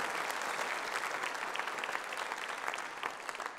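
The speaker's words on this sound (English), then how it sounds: "could you please give them a big round of applause for their great support" A crowd at the 2018 Australian F1 in Schools national final awards ceremony gives a big round of applause for sponsors, a dense, even patter of many hands throughout.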